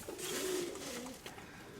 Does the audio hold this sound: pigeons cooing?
yes